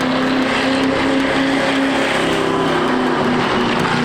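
A race car lapping a NASCAR racetrack makes a steady, loud engine drone with a sustained tonal hum that holds evenly throughout, heard from inside or very near the car.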